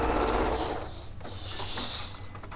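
A domestic sewing machine stitches steadily in an indoor sewing session, a soft continuous mechanical whirr with faint rattling, fairly quiet and unbroken by talk.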